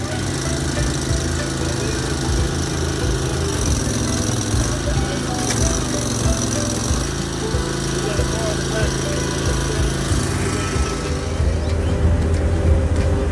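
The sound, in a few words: Partner concrete saw engine running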